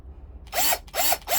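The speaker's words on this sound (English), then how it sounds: "Give it a couple of whirls to chamfer the inside" Power drill fitted with a Lee chamfer and deburr tool spinning against brass cartridge cases, three short whirring bursts separated by brief pauses, close and fairly loud with no talking.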